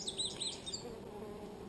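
Honeybees buzz around an open hive, a faint, close, wavering drone with a few brief rising whines as individual bees fly past.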